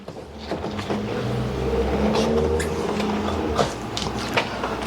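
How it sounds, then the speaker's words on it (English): A Toyota Supra being eased forward a short distance, its engine a low steady rumble close by with a slight rise in revs midway, plus a few small knocks and clunks around it. "I'm just gonna move the car out a little bit"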